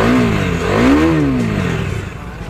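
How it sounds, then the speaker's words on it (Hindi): A KTM RC390 motorcycle on the road rumbles and revs, pitch climbing and falling in a rising swell before easing back to a lower idle, loud and close with no talking. "तो गाइस बाइक को जो मैं स्टार्ट दे रहा हूँ"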